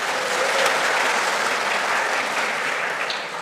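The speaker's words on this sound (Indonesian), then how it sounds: "Kita tepuk tangan dulu, tidak apa-apa." A church congregation at a Sunday service applauds together, a dense, steady wash of many hands clapping at close range that holds evenly for a few seconds before easing slightly at the end.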